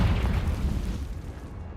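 Confringo explosive spell blast in a video game, a single loud, deep booming burst that rumbles and slowly fades.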